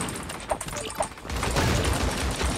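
Gunfire from a strong weapon in the game Creative Destruction, heard as a dense, sustained burst of rapid shots with clanking mechanical hits, preceded by a couple of sharper impacts amid busy game noise.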